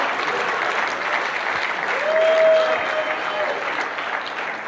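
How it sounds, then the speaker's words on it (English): Applause from a Q&A audience, a full, steady roar of clapping that swells briefly in the middle and carries on without a break, with a faint tone and some murmuring mixed in. "Let's clap it up for this man."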